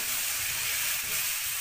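Minced ginger and garlic are stirred in a hot pot while cooking Moroccan-style beef with prunes, giving a loud, steady, close sizzling hiss that runs unbroken throughout with no voices.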